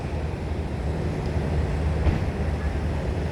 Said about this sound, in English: Subway, guys.